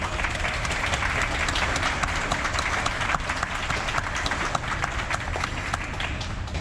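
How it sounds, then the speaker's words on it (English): Sustained applause from a crowd honoring military veterans aboard a cruise ship, dense steady clapping holding at an even, loud level throughout. "Please give them all a huge round of applause."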